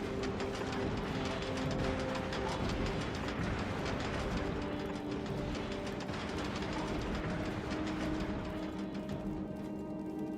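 A train in the factory-building game Factorio rolls past with steady dense mechanical rumble and faint clickety-clack rail noise, sustained and fairly loud throughout with no talk.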